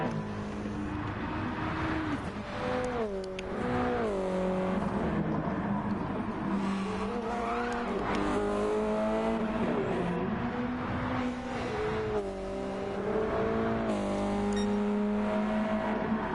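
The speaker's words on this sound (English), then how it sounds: "Nice grunty sound from Shameless Cash's car in the Subaru." A Subaru race car in a PS4 racing game, its engine revving up and down in gritty, rising and falling sweeps, loud and continuous with shifting pitch.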